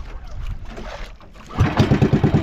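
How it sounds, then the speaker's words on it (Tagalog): A stalled boat engine is cranked and catches, going from a muffled, uneven rumble to a loud, rapid pulsing chug that continues steadily up close. "Papaandar muna tayo ng makina kasi namatay."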